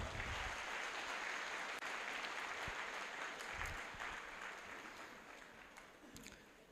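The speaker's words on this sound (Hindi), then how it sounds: "राकेश जी के लिए जोरदार तालियां" An audience claps warmly for Rakesh ji at a direct-selling event, a dense wash of applause that stays strong and slowly tapers toward the end, with a few sharper claps standing out.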